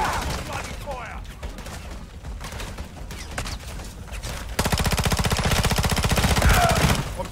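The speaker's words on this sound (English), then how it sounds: "taking effective fire!" Automatic gunfire in Call of Duty: Modern Warfare 3 Zombies, with scattered shots and bursts for several seconds, then a loud, rapid, sustained machine-gun stream with no break.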